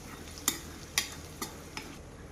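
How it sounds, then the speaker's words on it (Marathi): Spice masala of chili, coriander powder and turmeric is stirred into hot oil in a pan. A low, steady sizzle sits beneath four spaced spoon clacks against the pan, each softer than the one before. "मसाला में तेल मिक्स कर लू छू।"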